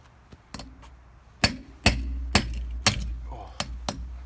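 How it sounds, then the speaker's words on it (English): Wheel studs being hammered out of a 2017 Ford F150 hub during a lift and leveling kit install: a series of sharp metallic strikes, about eight of them at irregular intervals, loud and close with ringing decay. "we're going to pop these studs out so that we can line this up"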